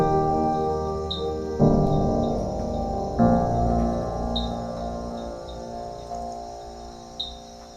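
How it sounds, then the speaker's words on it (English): Frogs call at night in Costa Rica, sending short repeated chirps over a sustained layered drone of steady tones that shifts in pitch a few times. "So I got frogs at night."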